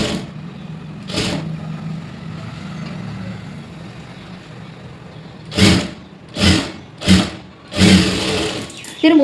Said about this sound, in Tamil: திரும்பவும் இன்னொரு தையல் போட்டு எடுத்துக்கோங்க.